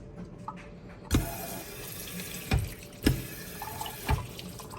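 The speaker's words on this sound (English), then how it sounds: "You can rinse them here like this." A WEWE glass rinser mounted at a sink sprays water to rinse a glass. Four sharp, close bursts of spray stand out over a steady hiss of running water.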